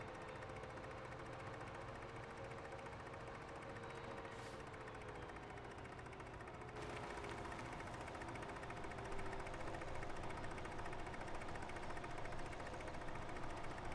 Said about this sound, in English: with the engine just purring away back there